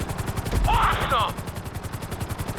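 Helicopter in Grand Theft Auto V, a fast rhythmic rotor chop pulsing steadily throughout, with a voice talking over it briefly in the middle.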